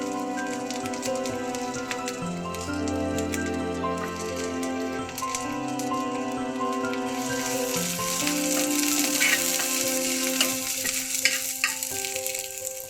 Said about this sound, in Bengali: তেল গরম হয়ে গিয়েছে এখন পেঁয়াজ কুচি দেব